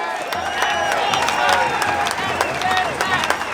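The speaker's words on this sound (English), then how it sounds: "A big round of applause for Joe." A rally crowd opposing the Emergency Services Levy Bill applauds speaker Joe, with loud, continuous clapping and sharp individual claps mixed with cheering and shouted voices throughout.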